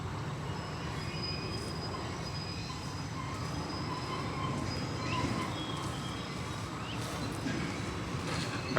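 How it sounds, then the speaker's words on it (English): A train moving in the distance near a city park, with a low steady rumble and faint wheel squeals, plus occasional birds. "there is a train moving in the background."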